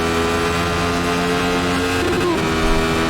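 Simulated Radical SR8 race car engine from iRacing at the Red Bull Ring, droning steadily at high revs with a stuttering limiter buzz near the end, loud and continuous with no talk.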